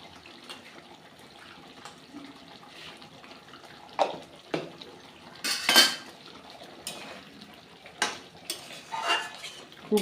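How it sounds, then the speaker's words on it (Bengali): Spices being stirred and fried in a metal pan for a cauliflower and potato curry: intermittent scraping and clattering strokes of a spoon against the pan over a soft background hiss, with no talking. "এবার আমি খুব ভালো করে কষিয়ে নেব"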